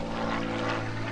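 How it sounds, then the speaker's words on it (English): A T-34 Mentor propeller airplane with a 225 horsepower Continental engine drones steadily overhead at an airshow, a loud continuous engine tone with a propeller buzz throughout, no voices. "225 horsepower Continental engine on board."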